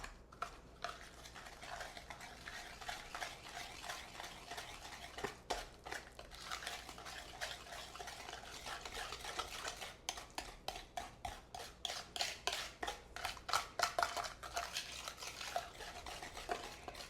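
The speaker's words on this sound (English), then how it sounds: "we need to whisk this in until the sugars are dissolved" Steady whisking of brown sugar and other sugars into a pumpkin muffin batter in a bowl, with a rapid scraping, clicking rhythm that grows busier and louder toward the end, close and with no talking.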